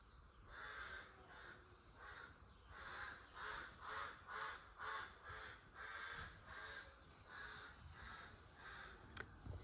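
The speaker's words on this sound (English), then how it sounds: "If I do stop talking, you can hear the birds." Crows cawing repeatedly in a garden in Zimbabwe, a series of harsh calls in uneven bursts, moderately distant and quiet, with no talking.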